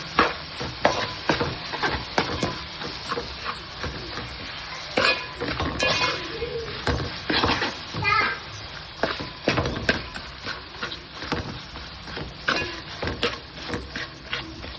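Gongura leaves sautéing in oil for gongura pulihora, a steady close sizzle broken by frequent scraping stirs and clinks of a spatula against the pan, with no talking.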